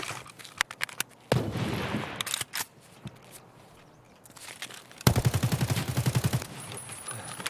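Gunfire in the video game Escape from Tarkov, bursts of rapid automatic fire with scattered single shots, loudest in a sustained rattling volley near the end.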